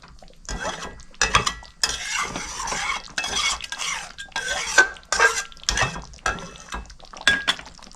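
Garam masala stirred into Rui fish korma in a pan: loud, close scraping and rasping of a spoon against the pan in bursts of uneven strokes, with short gaps between them.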